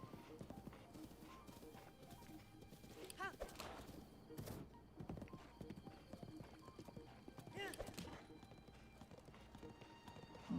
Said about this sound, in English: This horse is kind of slow.